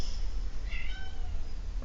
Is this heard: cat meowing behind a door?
yes